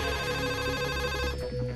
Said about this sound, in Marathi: त्याला फोनची रिंग ऐकू येत नाहीये.